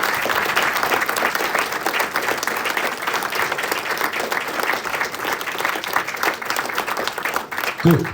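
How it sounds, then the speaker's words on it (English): Audience at a live football-management gaming talk breaks into a loud, steady round of applause, many hands clapping together close by for the full stretch, with a brief voice at the very end. "You can fill in a round of applause."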